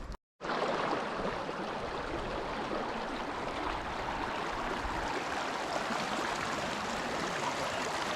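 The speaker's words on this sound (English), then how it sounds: "there's one of the waterfalls that's coming down into the lake" A waterfall pours steadily into Avalanche Lake in Glacier National Park, giving a continuous loud broadband rush heard up close that holds even with no breaks after a brief silent start.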